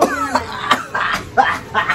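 A person coughs several times in short bursts, close by, interspersed with brief vocal sounds.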